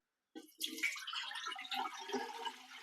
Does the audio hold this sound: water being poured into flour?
yes